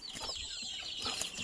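A newly caught wild red junglefowl (labuyo) gives soft clucking calls that come in short, faint bursts at a low level, with no speech.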